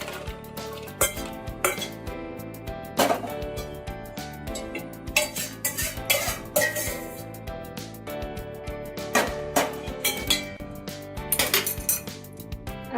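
Roasted dosa masala spices are scraped from a hot kadhai into a wide plate, giving repeated metallic clinks and scrapes of spoon against pan in an irregular rhythm, close and moderately loud, with no talking.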